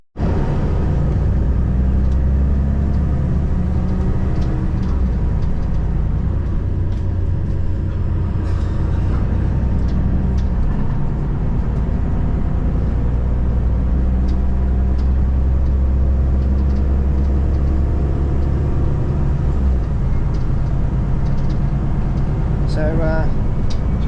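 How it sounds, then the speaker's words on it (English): Mercedes-Benz Citaro bus engine running steadily from on board, a loud continuous low rumble with road noise throughout and no break in the drone. "just so you can hear a bit more of the engine of the Citaro"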